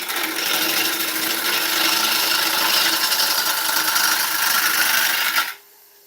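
A carbide turning tool cuts into an ash bowl spinning on a wood lathe, giving a steady, loud hissing scrape that holds evenly for over five seconds before stopping abruptly.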